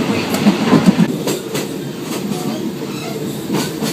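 A train rumbles along the rails in Thailand with a steady low roar and faint rhythmic clatter, the noise heard from inside a carriage.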